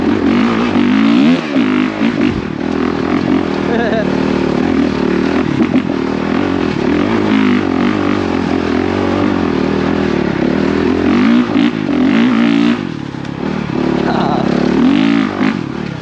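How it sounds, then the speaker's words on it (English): A Honda CRF450RX dirt bike rides off-road, its four-stroke engine loud and close throughout with steady revving and shifts in pitch, and a rider's voice breaks in over the engine. "I love this bike so much, Bolt."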